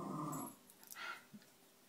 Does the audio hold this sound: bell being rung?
no